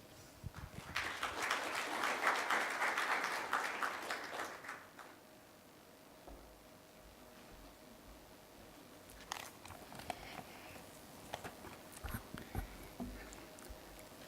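An audience applauds as Dr. Liu Fengding is welcomed to the stage at the opening ceremony of the Asan Beijing Forum 2013. The clapping swells, dies away to quiet room noise, then returns briefly in scattered patches.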